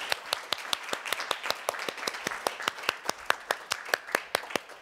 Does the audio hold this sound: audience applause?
yes